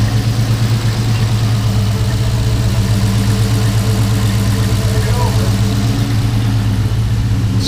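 A swapped Ford Coyote V8 idles steadily just after its first start, a loud, even low rumble that holds throughout with no revving.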